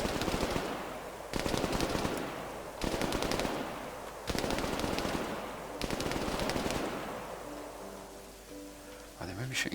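Turret gunfire in a zombie outbreak mission of the video game Ravage, with loud rapid bursts of automatic fire repeating in waves before trailing off into quieter game sounds.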